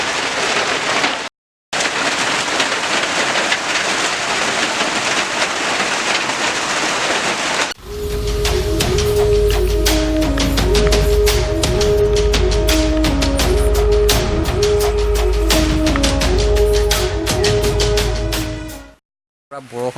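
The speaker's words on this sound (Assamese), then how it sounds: "পূৰা বৰষুণ আহি গ'ল।" Heavy rain pours down in a dense, loud, continuous roar for several seconds before it gives way to other rhythmic, tonal noise.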